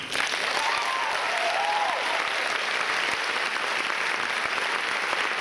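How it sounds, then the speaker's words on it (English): A school audience gives sustained applause at a valedictorian address, a dense, even roar of many clapping hands that stays loud throughout, with a faint whistle rising briefly near the start. "I think a round of applause is in order."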